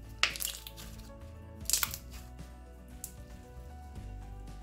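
Colourful slime is stretched and squeezed close up, giving bursts of sharp crackling pops in a few distinct clusters between quieter squishy moments.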